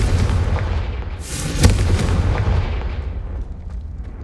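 A Confringo blasting spell bursts in Hogwarts Legacy, one loud, close, booming explosion that swells to a sharp crack mid-clip and then rumbles and fades away, with no talk.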